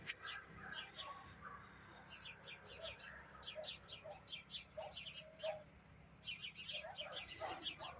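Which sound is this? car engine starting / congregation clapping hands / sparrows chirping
sparrows chirping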